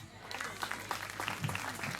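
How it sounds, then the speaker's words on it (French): Applause at a televised gathering, a faint, steady patter of clapping from a crowd that continues throughout the short stretch, with a few scattered louder claps mixed in. "Applaudissements, applaudissements,"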